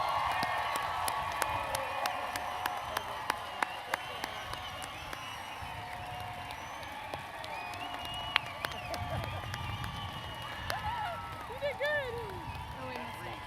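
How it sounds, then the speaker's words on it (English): Applause and cheering from a crowd for a high school graduating class at a graduation ceremony, scattered claps and whoops with some raised voices, continuing steadily throughout. "Let's give a round of applause for the Central Crossing High School class of"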